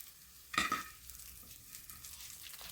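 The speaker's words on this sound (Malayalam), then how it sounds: "ഇതെല്ലാം വഴറ്റിയെടുത്തിട്ടുണ്ട് ഉള്ളി ഉണക്കമുളക് വേപ്പില ഇത് നമ്മുടെ കറിയിലേക്ക് നമുക്ക് ചേർക്കാം" Sautéed onion, dried chili and curry leaves drop into a tamarind prawn curry, giving a sharp burst of sizzling and spattering that quickly settles into a soft, low simmer with faint stirring.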